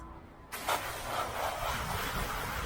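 Gas-powered AR45 roof pump running outdoors in wind, a steady hissing motor and spray drone that kicks in abruptly and holds at moderate distance.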